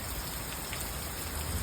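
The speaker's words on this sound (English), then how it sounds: "I enjoy sitting out in the storms. I like the rain." Steady rain falls during a storm in a neighborhood, a continuous even hiss of drops on surfaces, fairly close and moderately quiet with no other sounds.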